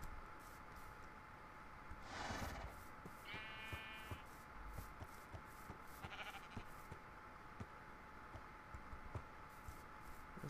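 Sheep bleats in the Minecraft video game: one clear bleat early, a second wavering bleat just after, and a fainter third one later, over a steady low background hum, with no talking.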